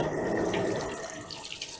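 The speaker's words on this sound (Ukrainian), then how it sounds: "зараз руки миємо" Tap water runs steadily into a sink while hands are washed under it, a close continuous splash heard alone, during cucumber salad preparation in a kitchen.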